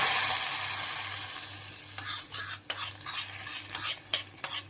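A hot mustard seed tempering hits drumstick soup with a sharp sizzle, followed by several bursts of stirring and clinking utensils against a pot, fairly close.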